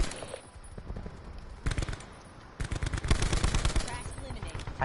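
Video game gunfire: rapid automatic bursts crackle loudly in several clusters, fairly near, with brief pauses between volleys and a voice faintly audible underneath.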